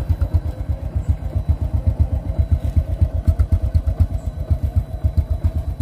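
A 2012 Honda Supra 125 motorcycle in original condition idles steadily nearby, its single-cylinder engine putting out an even, rapid low thump with a faint mechanical clatter, and no voices over it.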